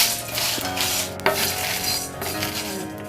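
Spices and poppy seeds dry-roast in a pan over a low flame for a Chettinad prawn gravy, with a continuous stirring scrape and light crackle up close and one sharp utensil clink midway.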